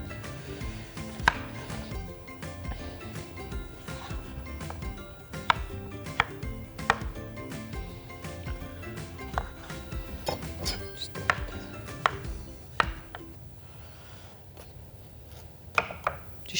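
Potatoes cut into large cubes on a cutting board for Georgian ojakhuri, a run of sharp knife chops striking the board at an irregular pace, close and clear, with faint clinks and no talking.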